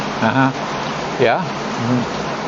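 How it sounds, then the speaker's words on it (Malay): Heavy rain makes a steady, dense hiss throughout, with a voice speaking briefly over it in short bursts. "Kalau anda dengar suara bising sekarang, ini adalah hujan."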